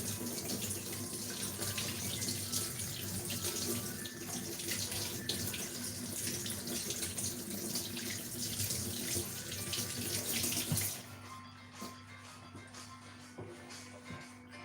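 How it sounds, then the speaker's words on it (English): Tap water runs steadily into a kitchen sink during hand washing, a loud continuous splash that stops abruptly near the end, leaving quiet handling noises and a faint hum. "Now I'm going to quickly wash my hands."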